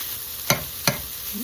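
Plant-based Beyond Burger meat browning in a pan, a soft continuous sizzle with two sharp spoon taps or scrapes close by.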